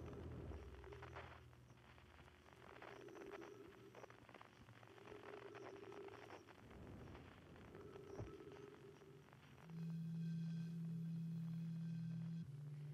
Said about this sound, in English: that one sounds like a Tibetan singing bowl